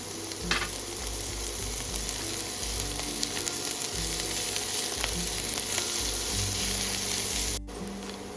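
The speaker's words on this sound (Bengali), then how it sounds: "এবার খুব ভালো করে ভেজে নেব পেঁয়াজটা নরম হয়ে যাওয়া পর্যন্ত" Onions fry over a medium flame in a pan, giving a steady, quiet sizzle with occasional crackles and stirring scrapes and no talk.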